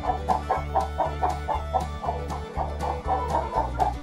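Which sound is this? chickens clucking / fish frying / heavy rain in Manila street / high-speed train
chickens clucking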